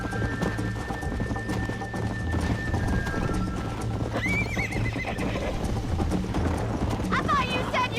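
In the video game Red Dead Redemption, hooves clip-clop at a steady gallop while a horse whinnies loudly twice, with voices talking over the busy background.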